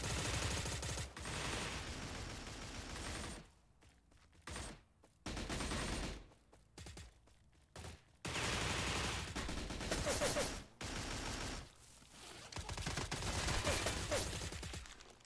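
Bursts of gunfire from a worn HK G3A1 battle rifle in a video game, loud and close, with rapid strings of shots broken by short gaps and a few single cracks.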